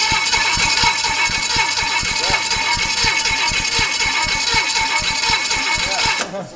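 A small block Chevy 283 V8 runs on only one cylinder head, its exhaust recorded up close as a loud, rapid, uneven chugging pulse like a tractor, steady for about six seconds before cutting down.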